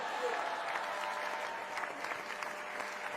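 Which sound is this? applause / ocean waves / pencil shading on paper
applause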